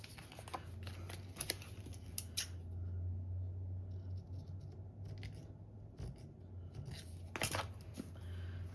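Scissors cut paper for a small craft tag in a few short snips and crisp paper rustles over a low, quiet background hum, close and without speech.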